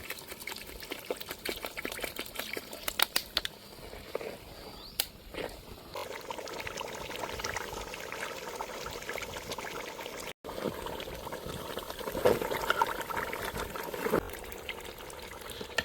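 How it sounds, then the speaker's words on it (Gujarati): Water is poured into a spiced gravy of red chilli, coriander-cumin powder, garam masala, turmeric and salt for village-style Gujarati tuver thotha, with soft, quiet splashing and stirring and no voices. "ત્યારબાદ થોડું આપણે અંદર પાણી ઉમેરી દઈશું"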